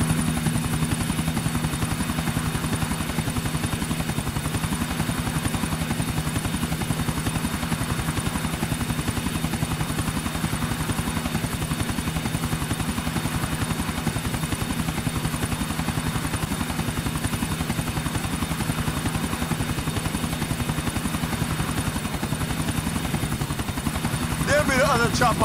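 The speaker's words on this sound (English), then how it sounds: "Chopper, stick to him, Nico." A helicopter in GTA IV flies overhead with steady rotor thumping throughout, while game characters talk over it.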